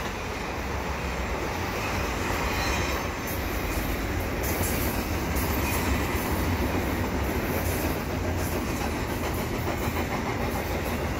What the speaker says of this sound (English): this is an eastbound CN Intermodal train